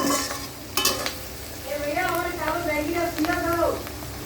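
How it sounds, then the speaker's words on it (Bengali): Onions and spices frying in a pan for a chicken dish, a soft steady sizzle with occasional stirring scrapes, close but quiet, under a voice talking. "দেখুন পেঁয়াজ ভাজা কালারটা কিন্তু খুব সুন্দর আসছে মশলা আর একটু ভালো করে মতো ভেজে নিব"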